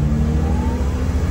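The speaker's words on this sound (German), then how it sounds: "Ich kann jetzt einfach den Schalthebel ja in die Neutralstellung bringen, gebe Zwischengas" A 1974 NSU Ro 80 rotary engine hums steadily and loudly, a brief throttle blip during a gear change in neutral, with a smooth, continuous low drone and no talk.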